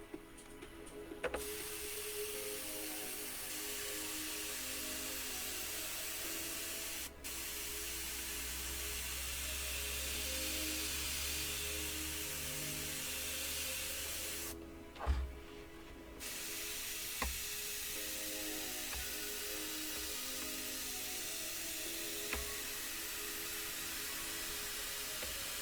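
Steady hiss of an airbrush spraying paint onto an RC car body shell, a long continuous spray with brief pauses and a couple of small knocks, fairly quiet and close.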